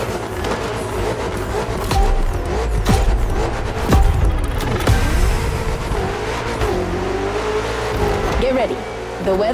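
BMW M cars driving in The Crew Motorfest video game, a steady engine drone with revving and shifting pitch throughout, joined by brief tire and impact-like bursts, with a voice talking over it.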